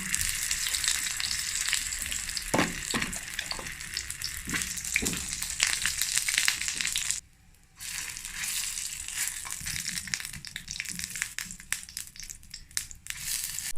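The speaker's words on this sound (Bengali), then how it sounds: "সন্ধ্যার দিকে আমার অনেক বেশি ক্ষুধা পেয়ে যায়, ফ্রোজেন রোল সেটাই তাড়াতাড়ি করে ভেজে নিচ্ছিলাম।" Frozen rolls deep frying in oil, a close, steady bubbling sizzle with crackling bursts and a short quiet break midway.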